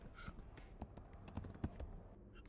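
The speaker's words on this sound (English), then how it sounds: "Here, type your password." A password is typed on a computer keyboard: a quick, faint run of soft key taps at close range over a quiet background, with no voices.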